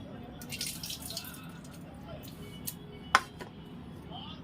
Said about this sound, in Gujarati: આપણે એને 1 થી 2 પાણીમાં ધોઈ લેવાના છે।